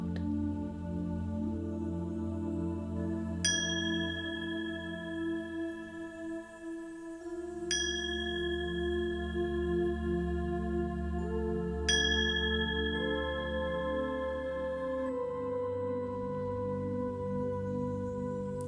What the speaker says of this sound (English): With the sound of these bells, we journey into